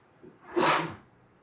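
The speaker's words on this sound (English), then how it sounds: "I'm just sneezing." A person sneezes once, close and sharp: a short inhale followed by a single burst, with nothing else around it.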